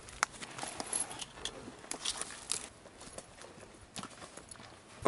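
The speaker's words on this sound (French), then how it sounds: "On fait un petit tour de cheval dans la vallée de Viñales." Horse hooves clip-clop in an irregular walking rhythm during a ride through the Viñales valley in Cuba, close and fairly quiet, with soft rustling between steps.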